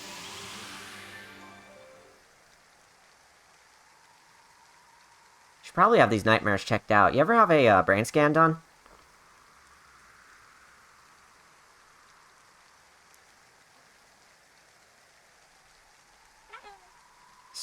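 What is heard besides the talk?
rain falling, from the video game Kirby's Return to Dream Land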